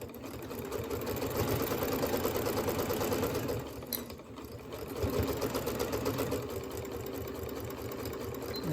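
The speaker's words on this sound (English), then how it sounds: "Now when you're sewing, make sure that these little seams here don't get flipped over." A sewing machine runs steadily, stitching quilt block pieces for a rail fence block, with a brief pause in the motor's close, continuous whir about midway.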